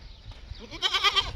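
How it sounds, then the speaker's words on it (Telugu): Goats on a farm in Kuwait bleat nearby, one wavering bleat rising clearly near the end of a short stretch of quiet outdoor background. "ఇక్కడ ఉన్నాయన్నమాట మేకలు."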